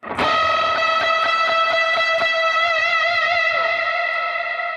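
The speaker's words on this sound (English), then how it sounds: "You crank up the mix on your reverb. And you also crank up some distortion" Electric guitar lead drenched in heavy reverb and distortion, one sustained bent note ringing out loud and steady with a long washy tail and faint picked notes beneath, no voices.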